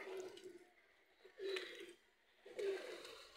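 Pigeons, including red-banded Karbalai birds, coo in repeated low, soft phrases, three short bursts spaced about a second apart, fairly close, with faint background noise between calls and no speech.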